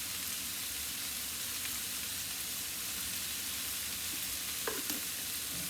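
Onion and garlic fry in a pan with a steady, soft sizzle and hiss throughout, and a brief stir or clatter comes near the end.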